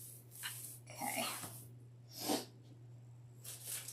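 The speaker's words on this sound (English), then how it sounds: "Yeah, this jute stuff, it makes me sneeze." Dust from jute used in making a deco mesh wreath brings on a few quiet, short sneezing bursts with breathy snorts between them, faint and close.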